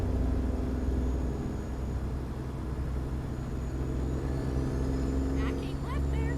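A semi truck hauling loads in Idaho rolls through rush hour traffic, its steady low engine rumble and road drone filling the cab continuously, with faint higher whines near the end.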